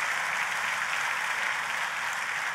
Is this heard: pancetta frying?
no